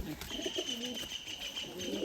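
Two pigeons of Andhar and old-line Giribaz stock coo close by in soft, repeated low throaty phrases over a steady faint background hiss.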